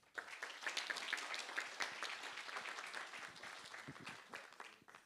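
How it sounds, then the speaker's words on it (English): A conference audience at a fintech recruitment event applauds its winners, with dense, sustained clapping from many hands for about five seconds that tapers off at the end. "A big round of applause for our winners of the day."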